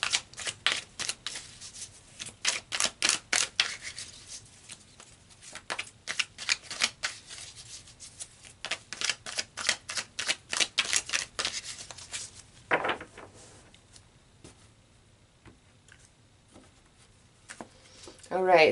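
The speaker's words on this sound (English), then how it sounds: "So let's pull some more cards" Tarot cards are riffled and shuffled in quick bursts of crisp flutter, repeated in several rounds with pauses between them, close and fairly loud, with a voice speaking softly near the end.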